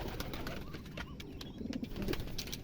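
Pigeons coo softly in a loft, their low, repeated coos rising toward the end over a faint, busy background of other bird chirps.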